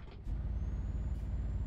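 A truck's air brake releases a sharp, hissing burst in a truck-driving video game, heard on a bi-train rig descending a mountain road, with a steady low engine rumble continuing underneath.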